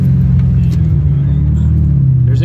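A truck pulling a loaded trailer with eight wheels and brakes, loud steady low engine drone with a gear shift changing the pitch near the end, close inside the cab.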